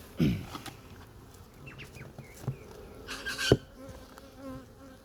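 Honey bees buzz around an apiary hive during a spring check outdoors, with a steady insect hum, close passing buzzes, sharp knocks, and faint birdsong in the background.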